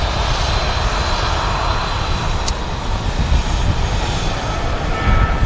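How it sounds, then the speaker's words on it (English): A Ryanair Boeing 737-800 jet departs Manchester Airport with a loud, continuous roar of engine noise that stays dense and steady throughout, with no voices over it. "There's a Ryanair 737-800 departing next."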